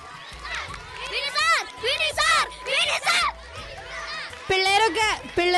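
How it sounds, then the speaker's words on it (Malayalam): Children cheer and shout loudly in bursts at a school Onam games event, with excited high voices rising and falling close by. "പിള്ളേരൊക്കെ ഭയങ്കര ആർപ്പുവിളിയിലാണ്."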